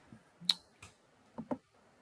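A handful of quiet mouse clicks in BeamTool software, a sharp pair near the start followed by softer, spaced clicks, close and isolated with no talking.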